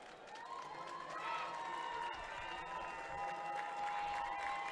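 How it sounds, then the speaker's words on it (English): A crowd at a high school boys' soccer championship applauds and cheers in a standing ovation, a wash of clapping with a sustained tone running through it, somewhat distant. "Get a round of applause and a standing ovation from their faithful"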